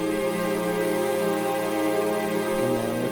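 FL Studio's default choir and strings presets layered together, a smooth sustained pad of stacked tones holding steady with a slight chord shift near the end, close and even, with no voices speaking.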